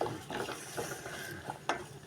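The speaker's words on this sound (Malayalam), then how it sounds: "നല്ലതുപോലെ ഇളക്കിക്കൊണ്ടേയിരിക്കുക." Roasted peanuts are stirred in a pan for peanut candy, making quiet, irregular scraping and rustling strokes close by.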